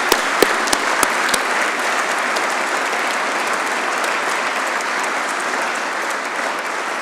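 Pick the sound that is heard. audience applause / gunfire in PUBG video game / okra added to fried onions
audience applause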